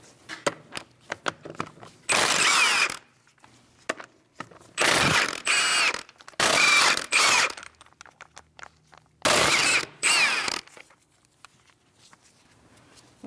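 A 17mm socket on a ratchet loosens the front wheel of a 2000-2006 Mini Cooper, with four loud bursts of rapid clicking separated by quieter taps and handling noises.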